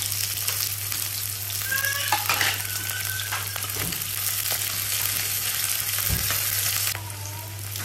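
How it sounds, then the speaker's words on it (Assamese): Onions and green chilies sizzle steadily in hot oil with occasional stirring scrapes and a constant low hum in the background. "এতিয়া লেটা ভাজিব লৈছোঁ ইয়াত দিলোঁ পিঁয়াজ কেঁচা জলকীয়া"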